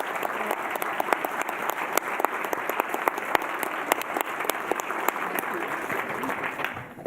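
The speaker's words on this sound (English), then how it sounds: "Can we give our panelists a round of applause?" Sustained applause from an audience for panelists at a Girl Scouts event, with many distinct individual claps standing out over a steady wash of clapping at moderate level.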